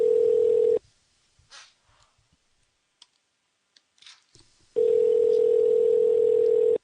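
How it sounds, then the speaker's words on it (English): A telephone call ringing out on a line: a steady continuous tone for under a second, a stretch of near silence with faint clicks, then the steady tone returning and holding to the end, with no talk. "It's ringing out."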